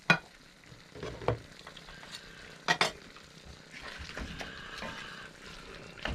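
Beef ribs stirred in liquid in a pot, with wet sloshing and scraping strokes, a few sharp knocks of a utensil against the pot, and a soft simmering bubble underneath throughout.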